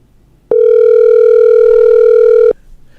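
A telephone call rings with a single loud, steady electronic tone lasting about two seconds, clean and close, with no voices over it.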